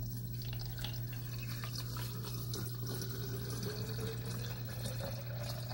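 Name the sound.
water filling a cold brew carafe with green tea bags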